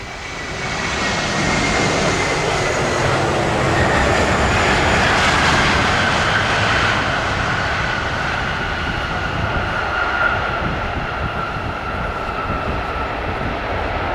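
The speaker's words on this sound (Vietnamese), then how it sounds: "chúng ta đang có một chiếc Airbus A330-300 của hãng hàng không Asiana Airlines" An Asiana Airlines Airbus A330-300 touching down in strong wind at Tan Son Nhat airport, a loud sustained jet roar that swells and then holds steady with engine whine over the runway.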